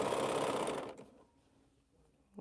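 A sewing machine runs briefly while stitching quilt pieces, a close steady whir that stops after about a second, followed by near silence.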